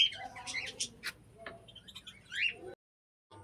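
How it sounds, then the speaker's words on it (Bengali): Birds call and chirp at Narayan Ghati beside Kotasur, with bright overlapping squawks and tweets heard close to mid-distance, busy at first and thinning out before the sound cuts to silence. "এখানকার পাখিগুলোর একবার ডাক শোনো।"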